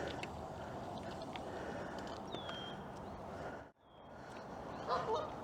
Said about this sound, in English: Okay, so I'm guessing the geese.